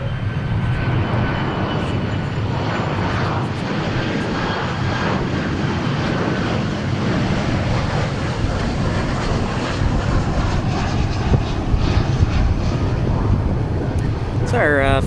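An airliner in a special 100-year livery passes at DFW Airport with a sustained, loud jet roar and some wind noise on the microphone, while a voice speaks near the end.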